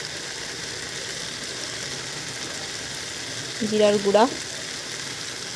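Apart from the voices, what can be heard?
chicken being sautéed (kasha) in a pan with spices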